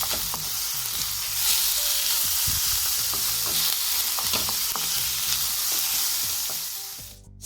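Pork and cabbage stir-frying in a pan, a steady close sizzle with scattered clicks and scrapes of stirring throughout, no voices.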